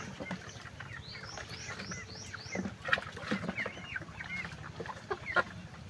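A Bamboline hen clucks and chatters in repeated short calls during bathing, with higher chirps and some splashy noise over a steady background.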